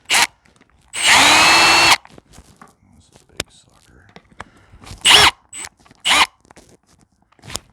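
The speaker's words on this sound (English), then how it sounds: "They'll drill a hole through metal like butter, or super" Countersink bit drilling through metal in a basement workshop: a loud one-second burst of power-drill whine, then quieter scraping and tapping, and two shorter drill bursts near the end, with occasional talk in between.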